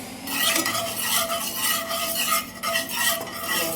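Oil going into a hot pan for rava uttapam batter, heard as steady close stirring and scraping with a light sizzle throughout, no voices.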